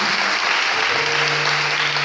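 Church congregation applauding, a dense, continuous wash of clapping that holds loud and close from start to finish.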